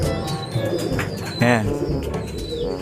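Racing pigeons coo at a loft trapdoor during a training toss, soft low throaty coos rising near and clear, with a few chirps and a brief flutter while someone speaks briefly.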